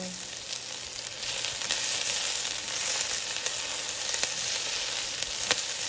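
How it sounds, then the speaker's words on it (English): Ingredients for pork sinigang sauté in a hot pan, giving a loud, steady, close sizzle with a few faint scrapes of stirring and no voices. "saute for about a minute"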